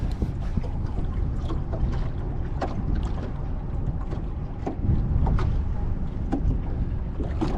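A 2023 Smokercraft 15 Resorter boat with a Yamaha F50 outboard idles along slowly in gear, giving a steady, close low-pitched engine drone mixed with water and wind noise, with no talking.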